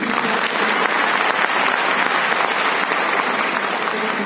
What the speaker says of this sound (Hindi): मितेश भाई मेहता जी के लिए एक जोरदार तालियां चाहिए।